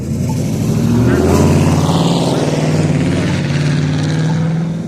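A vehicle with its exhaust mufflers removed rumbles loudly with a coarse, pulsing engine drone that swells and holds steady for several seconds, with people talking over it.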